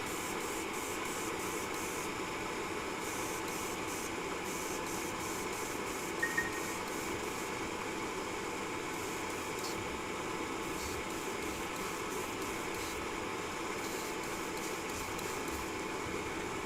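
An airbrush lays a second coat of Vallejo Color Shift paint, producing a continuous, even hiss of spraying air that runs steadily throughout, close and unbroken, with no talking.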